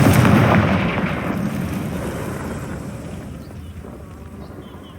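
Blasting-spell explosion from Confringo in Hogwarts Legacy, a loud booming burst at the start whose rumbling roar slowly fades over several seconds, with no talk.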